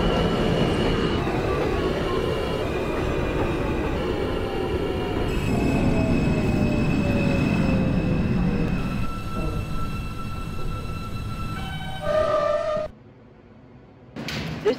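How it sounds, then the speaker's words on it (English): An R160A subway train on the New York City M local line, simulated in openBve, rumbles along with rising and falling wheel and motor tones and squealing wheels, then brakes to a stop, followed by a brief quiet and a door sound. "This is a Manhattan-bound M local train."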